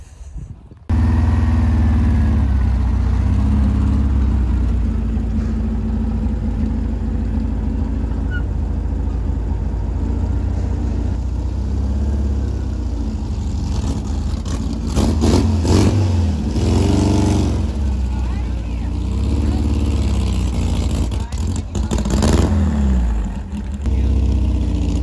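A 1976 race car engine at a raceway in Alaska, a loud deep idle rumbling steadily near the microphone, then rising into several revving bursts and sharp throttle blips later on.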